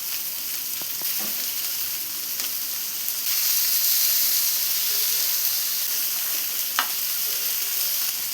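Chicken pieces for Afghani chicken sizzle in a hot pan, a steady close crackling hiss that swells slightly midway, with a few faint clinks of the pieces being turned.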